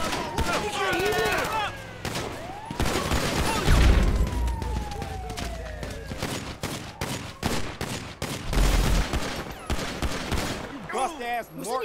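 Gunfire in Grand Theft Auto V, loud bursts and single shots ringing out repeatedly in close range with heavy booms, while voices shout intermittently over the shooting.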